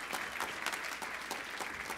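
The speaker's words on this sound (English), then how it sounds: "please stand and just let everybody clap for you" At a Martin Luther King Jr. community leaders celebration, an audience claps for an honoured guest, steady dense applause filling the room for two seconds with individual claps pulsing through.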